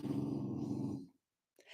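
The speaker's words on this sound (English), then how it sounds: "Allie's over here growling at Axel, and Axel's doing nothing" A pet dog growls in a low, steady rumble for about a second, fairly close, then falls quiet before a faint trailing sound.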